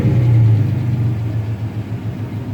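A V6 engine in a 1985 Chevrolet Caprice Classic idles on a cold morning, a loud, close, steady low rumble with a deep throb that eases slightly after the first moment.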